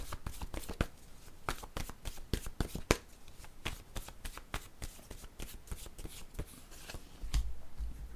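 A deck of tarot cards being shuffled close up, with quick, uneven riffles and soft flicks of cards handled at low volume.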